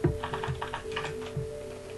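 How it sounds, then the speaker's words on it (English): Quick, dense run of keystrokes on an ordinary computer keyboard, steady close-up clicking for the whole stretch with no voices over it. "I'll type something very fast."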